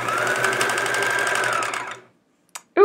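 Sewing machine stitching pieces of quilt fabric for a chevron quilt, running steadily and closely for about two seconds before it stops, followed by a brief click and a faint high squeak.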